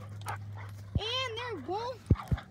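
Puppies play rough nearby, letting out a drawn-out wavering whine followed by a couple of sharp, short yips.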